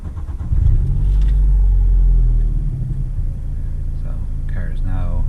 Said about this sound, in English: we'll start the car again